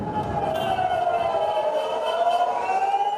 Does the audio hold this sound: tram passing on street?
no